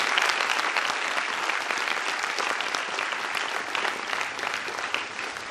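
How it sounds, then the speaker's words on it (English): Audience applause at a college honours ceremony in Bijapur, Karnataka, runs as a continuous, even roar of many hands clapping with no pauses throughout. "you all deserve a big round of applause for the same"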